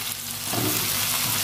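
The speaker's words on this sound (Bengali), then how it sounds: "এবার ওর উপর দিয়ে দেবো ঢেঁড়স" Okra tumbles into a pan of frying onion, tomato and green chilli, setting off a loud, dense sizzle that swells in the middle and holds steady at close range.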